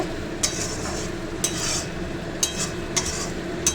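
Fish masala is stir-fried in oil in a pan, a soft continuous sizzle broken by several sharp scraping strokes of a spatula against the metal, spaced about once a second, close and quiet with no talking.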